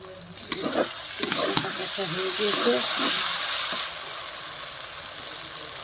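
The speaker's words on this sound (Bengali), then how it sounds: "মশলাটা ভালো করে ভাজা দেবো" Spice paste sizzles and hisses steadily in a hot pan, with brief clatters of stirring and a voice talking over the frying.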